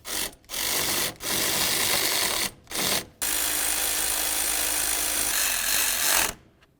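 Power tool driving the alternator mounting bolts on a Honda CR-V: a loud buzzing whir in short bursts, then one long continuous run before it stops, with no talk.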